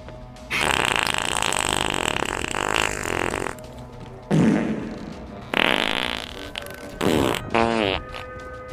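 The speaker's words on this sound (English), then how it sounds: "Okay, how many farts do I owe?" Several loud, drawn-out fart noises from the Sea of Thieves pirate game, rendered as repeated blasts of uneven length with short gaps between them, close and prominent with no talking over them.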